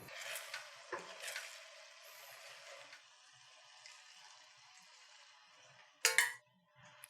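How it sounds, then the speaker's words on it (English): Pumpkin sage risotto is stirred in a pot, soft quiet scraping and gentle sizzling strokes, with one sharper clatter toward the end. "Let me give it a quick little stir."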